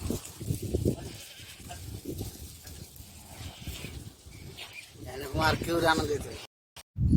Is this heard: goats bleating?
yes